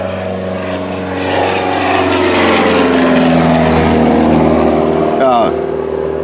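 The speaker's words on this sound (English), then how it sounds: "We're about to have a flyby by an airplane." A propeller airplane flies over a workshop, its broad droning engine swelling louder toward the middle and then easing away over about six seconds.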